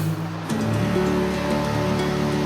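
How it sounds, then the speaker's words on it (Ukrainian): Water flows and murmurs continuously at a steady level, with a low tonal hum underneath. "зюрчання води"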